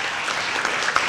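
A short burst of audience applause at a county candidate forum, dense even clapping from a crowd, fairly loud and heard without talk.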